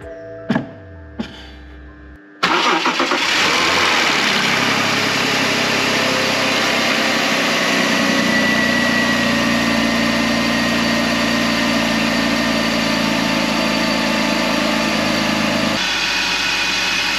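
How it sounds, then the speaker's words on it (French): BMW 530i with an M54B30 inline-six, freshly fitted with new spark plugs, cranks briefly after a couple of clicks, then fires up and settles into a steady, smooth idle that runs loud and close until the end. "Bon, bah il tourne impeccable notre petit L6, c'est merveilleux."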